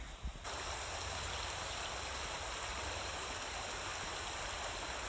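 The West Fork of the Greenbrier River rushes along in a steady, broadband wash of flowing water that stays even and unbroken from start to finish, with no voices.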